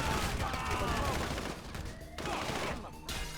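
Rapid bursts of gunfire from GTA Online crackle loud and close in dense volleys, pausing briefly twice before resuming.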